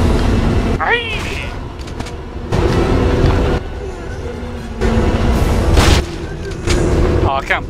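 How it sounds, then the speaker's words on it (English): Magnum gunshots in the video game Resident Evil Outbreak, several loud, heavy booming shots in separate bursts with decaying rumbles between them, mixed with game sounds and people talking over them. "Use your magnum. Shoot."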